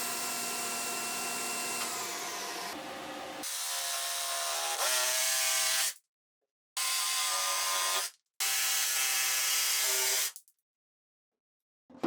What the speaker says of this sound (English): with that done, I can cut the template